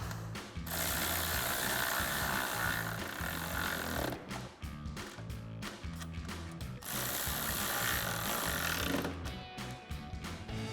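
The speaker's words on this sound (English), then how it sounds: "And then we'll take a 10mm socket to tighten these down." A ratchet with a 10mm socket clicks rapidly as bolts are tightened on a 2015-2023 Ford F-150 marker light, in long steady runs with a brief break midway, close and moderately quiet.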